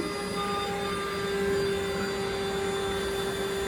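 A vacuum cleaner runs at a steady, loud roar with strong airflow and a constant high whine, picking up a piece of string nearby.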